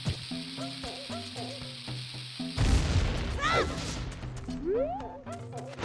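A bomb blast in Zelda: Ocarina of Time, one sudden loud boom that cuts through the game music midway and then rumbles and fades.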